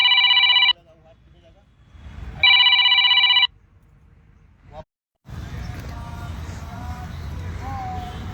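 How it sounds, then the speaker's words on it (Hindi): A telephone rings in two loud electronic bursts separated by a pause, followed by a dense, noisy background. "फिर एक फ़ोन आ गया था"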